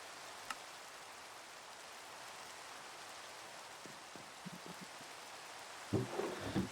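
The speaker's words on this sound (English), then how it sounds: "This rain sucks." Rain falling in the video game Minecraft, a soft steady hiss at low level with a faint click early on and a few small thumps and rustles toward the end.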